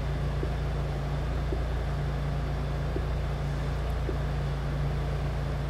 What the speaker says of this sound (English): So it's just coming off a cold start idle now.